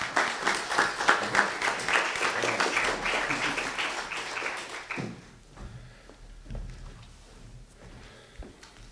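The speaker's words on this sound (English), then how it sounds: "Let's give them a round of applause." Church audience gives a round of applause, a warm crowd of clapping that carries on for several seconds then stops abruptly, leaving a quiet room with a few faint knocks.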